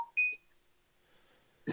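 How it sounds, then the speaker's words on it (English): A phone gives a few short electronic beeps, a sustained clean tone followed by a couple of quick blips, fairly close in an otherwise quiet room. "Next time you got to remember to mute your phone. It's been beeping all night."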